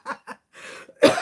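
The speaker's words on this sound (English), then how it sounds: "Sorry, I didn't mean to cough at you there" A person with flu coughs several times in short, sharp bursts indoors, the last one louder and harsher, with brief silent gaps between them.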